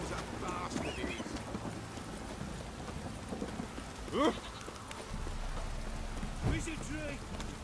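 Steady rain falls in the video game Witcher 3, a constant patter on surfaces heard under a man's brief spoken line, with a horse's snort and other game sounds cutting through.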